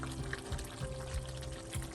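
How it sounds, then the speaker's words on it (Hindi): A teaspoon of ghee goes into a pan of prawn malai curry with garam masala, giving a soft close liquid pour and gentle bubbling with faint low thumps. "1/4 टीस्पून गरम मसाला मैंने ऐड किया अभी, और 1 टीस्पून घी"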